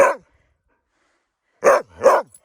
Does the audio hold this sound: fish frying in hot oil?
no